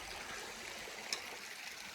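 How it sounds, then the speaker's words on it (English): A two-tier waterfall across a river in Kananaskis gives steady rushing water, a broad continuous hiss of falling water heard from some distance, with no voices. "Spotted this waterfall across the river"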